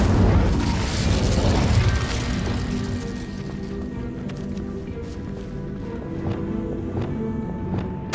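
Incendio fire spell cast in the video game Hogwarts Legacy: a heavy, low booming whoosh that swells loudly in the first two seconds, then fades into a softer rumbling tail with small crackles and pops.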